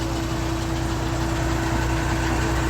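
A Rameshwar Travels pickup vehicle's engine runs at a steady idle, a low, even rumble with a faint knock, continuous and close throughout.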